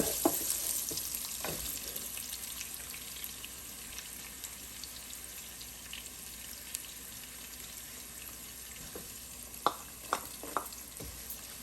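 Chopped onions sautéing in a pan with cumin seeds for rajma, a soft steady sizzle with occasional sharper clicks and spatula scrapes, fairly quiet and without any talk.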